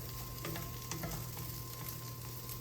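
Chorizo frying in a pan gives a steady, faint sizzle with soft crackles throughout, alone and without talk.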